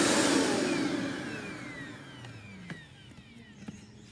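A Eureka vacuum cleaner with a hose winds down from a loud whooshing motor roar into a fading whine, with a few clicks and knocks near the end, close by.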